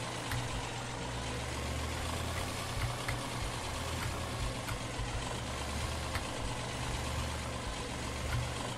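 A tractor engine in the Farming Simulator 17 video game idles with a steady, continuous low drone, unchanging throughout and heard alone.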